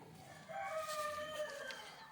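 Country chickens in a coop at midday feeding, one giving a drawn-out crowing call over faint background clucking, at moderate distance and fairly quiet.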